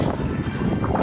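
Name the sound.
strong gusts of wind on the microphone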